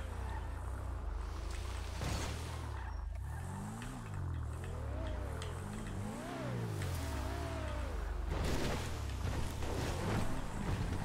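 A car engine drones steadily while driving, its pitch rising and falling repeatedly as it revs up and eases off, loud and continuous with a low rumble underneath and no voices.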